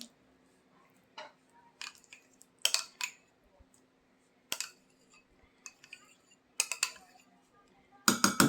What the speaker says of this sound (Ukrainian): І все ретельненько перемішаємо.